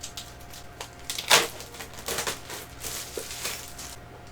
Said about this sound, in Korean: 제품은 왜 이렇게 비닐이 쌓여있는지 모르겠어요. 이 작품은 뜯어볼까요? 어차피 뜯을 건데.